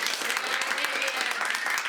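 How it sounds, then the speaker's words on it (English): Steady crowd applause at a theatre production fills the whole stretch, dense and continuous clapping from many hands at an even level. "let's give a round of applause"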